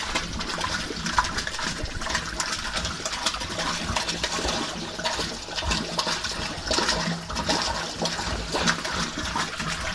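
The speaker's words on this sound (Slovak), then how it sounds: "robí malé bublenie v poslednej časti" Small, steady bubbling of aeration in the last chamber of a domestic wastewater treatment plant, set to minimal airflow. The watery gurgle runs continuously and evenly with no talk.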